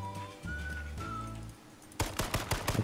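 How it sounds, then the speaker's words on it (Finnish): Gunfire during a round of the H1Z1 battle royale video game, with a sudden burst of rapid, loud shots after a stretch of steady in-game engine and whistling tones. "joku ampuu mua silti"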